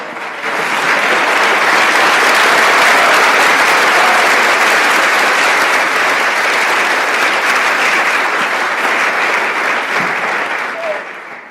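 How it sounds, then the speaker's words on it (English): A graduation ceremony crowd at an international student ceremony gives a sustained round of applause for a student's parents, a dense, even wash of clapping lasting about ten seconds before tapering off. "Can you give a round of applause?"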